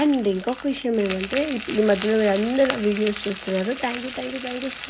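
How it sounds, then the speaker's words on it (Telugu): Spices for tempering crackle and sizzle in hot oil in a home kitchen, a steady hiss running beneath someone talking continuously close to the microphone. "అది తాలింపు ఇట్లా వేసిన వెంటనే మా మమ్మీకి ఫుల్ ఇట్లా సౌండ్ రావాలి"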